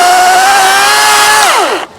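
An EGO POWER+ 18-inch battery chainsaw cuts firewood with a loud, steady high whine that drops sharply in pitch as the motor winds down and stops.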